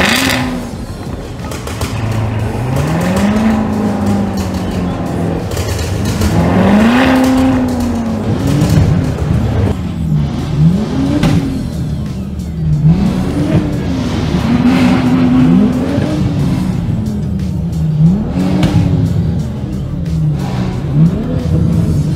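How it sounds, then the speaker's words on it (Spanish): Several cars at a car expo rev their engines loudly and repeatedly, the pitch rising and falling in waves over a continuous idle rumble for about twenty seconds. "ya todos prendieron los carros."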